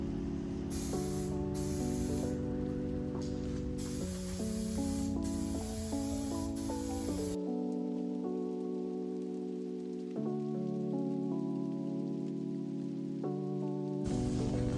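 A spray can lays a second coat of paint onto a Stratocaster clone guitar body. Loud, close hissing comes in several bursts of a few seconds each, with short pauses between them, and nobody speaks.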